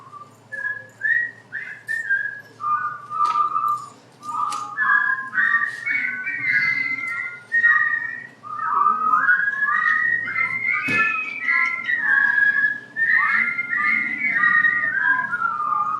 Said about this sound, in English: I would like you to help me whistle if